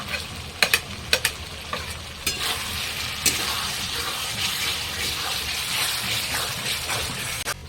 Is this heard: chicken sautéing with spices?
yes